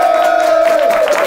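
Studio audience at a television talk show applauding and cheering, a short burst of crowd noise with a steady tone running through it.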